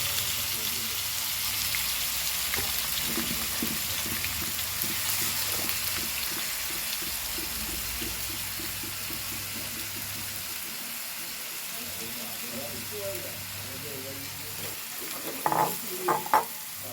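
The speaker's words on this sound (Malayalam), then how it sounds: "ഇത് ഞാൻ ചൂടുള്ള വെളിച്ചെണ്ണയിലേക്ക് ഇട്ട് കൊടുക്കണ്ടേ ഒന്ന് വറുത്തെടുക്കും" Bitter gourd rubbed with salt and turmeric frying in hot coconut oil, a steady close crackling sizzle throughout with a few sharper spatters near the end.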